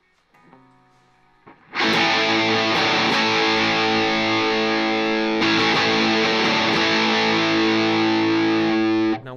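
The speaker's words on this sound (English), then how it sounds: "let's just really quickly do the Distortion Plus again" An electric guitar played through an MXR Distortion Plus pedal rings out in two long, loud, heavily distorted sustained chords after a quiet lead-in of softer picked notes, with no talking.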